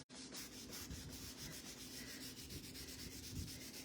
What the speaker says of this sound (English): get an applicator or a cloth of some type, and just apply a little bit of wax to this surface